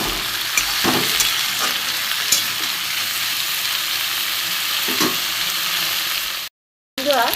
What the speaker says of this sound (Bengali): এবার আমি ভালো করে কচু আলুগুলো ভালো করে ভেজে নেব।